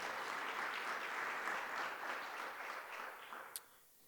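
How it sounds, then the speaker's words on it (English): An audience at a city disability advisory committee quarterly meeting gives a round of applause, dense steady clapping that holds evenly for several seconds and then thins and fades out, with a louder single clap near the end. "Let's give them a round of applause again."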